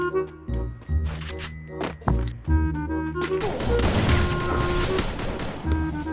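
Bursts of gunfire from the Free Fire battle-royale game in a one-on-one custom match, with sharp shots and a sustained volley of rapid fire, loud and mixed with in-game effects and music.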